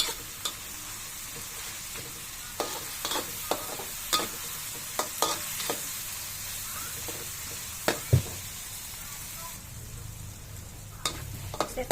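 Bagoong (shrimp paste) sautéing with crushed tomatoes in a pan, a steady sizzle under repeated sharp scrapes and clacks of a spoon stirring against the pan, close and alone without talk.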